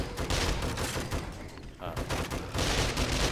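SMG gunfire in a first-person shooter game, loud rapid automatic bursts that nearly fill the clip with one brief lull in the middle, while a commentator talks over the shots.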